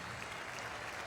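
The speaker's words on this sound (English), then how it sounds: "another stirring round of applause for the color guard as it departs through the center field gate" Stadium crowd at Shea Stadium applauding a departing color guard, a dense steady wash of distant clapping filling the whole moment.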